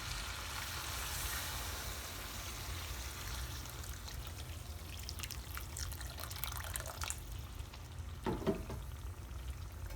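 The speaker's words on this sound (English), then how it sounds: "what we can do now is add some water" Water poured into a pan of sizzling chicken and pepper curry, a soft steady fry with a faint trickle and brief bursts of bubbling, quiet and close.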